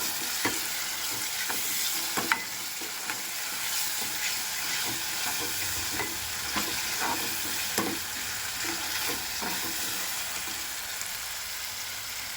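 Tomatoes and browned onion fry in a pan, a continuous moderate sizzle and hiss with repeated scraping taps of a spoon stirring, close and steady throughout.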